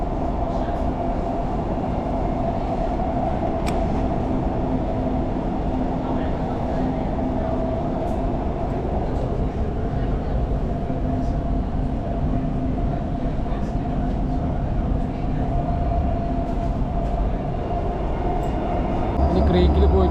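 A metro train heading to Creek station rumbles steadily from inside the carriage, a continuous low roar with a faint mechanical hum that holds for the whole stretch.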